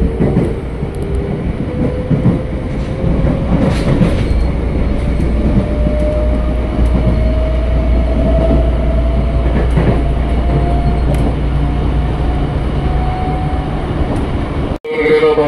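A Tokyo Metro 6020 KRL commuter train running at speed on the Cikarang line, loud continuous rumble and rail roar from inside the car with a slowly rising motor whine and faint clatter, ending in a brief dropout.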